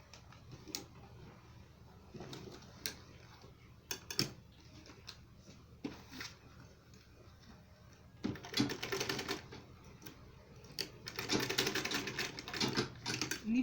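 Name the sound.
sewing machine sewing the side of a purse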